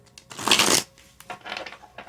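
Cards being riffled and shuffled, a loud burst of rapid papery flutter followed by softer shuffling passes, close up with no talking.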